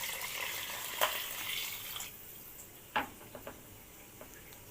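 Water is poured into a pot of rice on a lit stove, a rushing splash in the first two seconds, then quieter bubbling with a few sharp clinks and knocks.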